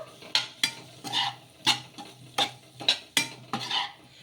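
A spoon scrapes and stirs wheat flour pasta with masala in a pan, in about eight distinct, evenly spaced strokes, close and clear, with a faint sizzle between them.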